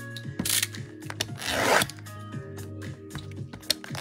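Packs from a 2022 Topps Inception baseball hobby box are torn open close up, with crinkly wrapper rustling, ripping and rubbing sounds in irregular bursts and no talk.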